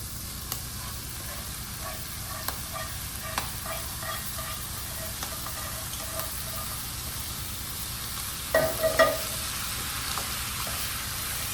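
Cheese sauce stirred into pink-tailed shrimp in a hot pan, a soft steady sizzle with light scraping spoon strokes and a brief clatter near the end, fairly quiet with no voices.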